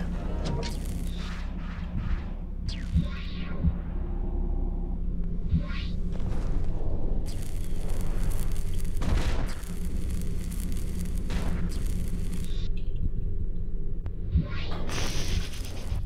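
Antimatter blaster fire in the space combat game Starfarer, a series of sharp energy bursts and booming impacts over a constant low rumble, irregularly spaced and moderately loud, with whooshing bursts scattered across the stretch.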